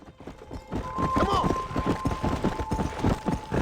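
Horse hooves clip-clopping in the video game Red Dead Redemption, a brisk rhythmic galloping beat of heavy thuds, loud and close, with a steady tonal game sound running beneath.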